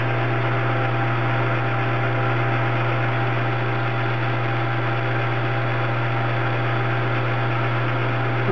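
A metal lathe turns a muzzle brake at 500 RPM, giving a loud, steady motor drone with a constant low hum and broadband whir throughout, unchanging and with no speech.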